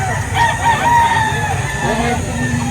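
A rooster crows at a busy chicken market in Lipa, Batangas, with a drawn-out call rising and falling over steady crowd murmur and nearby clucking.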